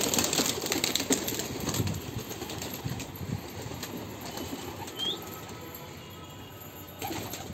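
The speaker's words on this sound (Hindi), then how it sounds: "अभी सारे कबूतरों को बाहर छोड़ते हैं।" Pet pigeons let out of their coop, with soft wing flaps and flutters over a quiet outdoor background, plus occasional faint coos and light knocks, low in level and scattered.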